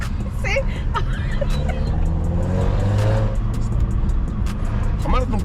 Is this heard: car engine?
yes